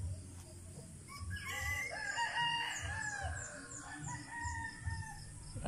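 Roosters of a yellow-legged hatch line crow repeatedly in a chicken coop, several birds overlapping with rising calls and scattered clucks, at moderate distance against a low background.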